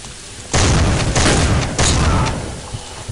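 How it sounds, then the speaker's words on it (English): A loud explosion in Soldier of Fortune II: Double Helix bursts in suddenly and stays heavy, a deep booming roar with a second surge before it slowly fades. "I went and stood right on the bomb"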